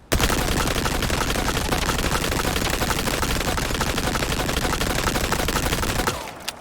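A weapon fired full-auto in the Resident Evil 4 Remake, a loud, unbroken rapid stream of shots lasting about six seconds before cutting off into quiet.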